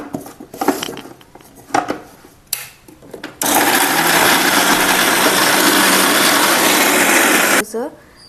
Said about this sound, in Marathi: आपण ते मिक्सरला बारीक करून घेऊया